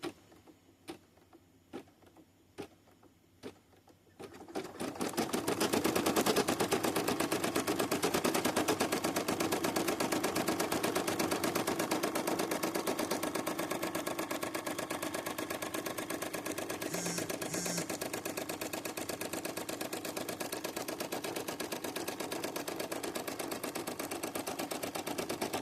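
An embroidery machine sewing a tack down stitch: after a few isolated clicks it starts up into a fast, steady mechanical whirring and needle rattle, loud and close, running continuously.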